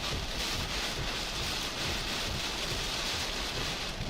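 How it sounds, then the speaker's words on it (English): Wind-driven rain from Hurricane Beryl's landfall on the Texas coast hisses steadily, a dense, even wash of rainfall with buffeting gusts throughout. "it's windy and raining"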